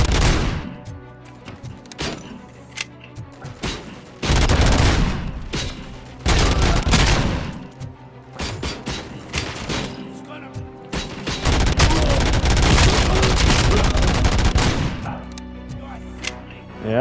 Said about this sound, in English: Yeah, the RoboCop's basic gun is just awesome.